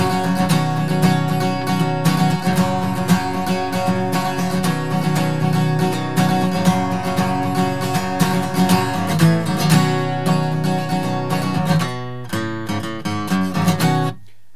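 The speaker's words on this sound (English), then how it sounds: "I'm just gonna play it really slow and then let you guys build up the speed." Acoustic guitar played slowly in the strum pattern of a country song, a steady full-bodied strummed rhythm heard close and alone with no talking, thinning out near the end.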